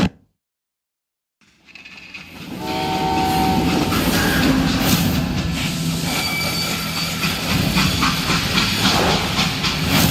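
A freight train in the Call of Juarez: Gunslinger video game starts after a brief silence, then builds into loud, steady steam hissing and rumbling rail noise, with a short horn-like tone partway through.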